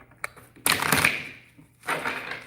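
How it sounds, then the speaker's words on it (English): Tarot cards are shuffled by hand in two quick riffling bursts, dry papery rattles heard close and without talk. "Let's give it a few more shuffles for the number twos."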